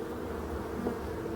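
Honeybees at a hive rearing winter bees, a steady close buzzing drone that holds evenly throughout with no voices.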